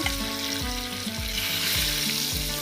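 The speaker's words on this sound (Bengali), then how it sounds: "দেখো প্রথমে আমার তেলটা গরম হয়ে গেছে, এবার দিয়ে দেবো মাছগুলো আমি ভাজা করে নেব।" Pieces of katla fish fry in hot oil with a steady close sizzle, under a low humming drone that swells and dips in regular pulses.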